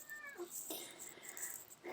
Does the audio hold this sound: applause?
no